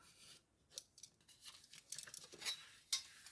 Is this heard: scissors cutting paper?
yes